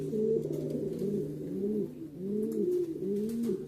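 Close, steady cooing of Spanish powder pigeons in a loft, a repeated rolling coo with rising and falling phrases and no talking.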